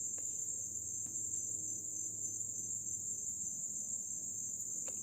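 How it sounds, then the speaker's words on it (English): Outdoor insects drone in a continuous high, shrill chirring, steady and fairly loud throughout, with a few faint clicks and a low background hum and no voices. "Now granted, insects do make strange noises at times"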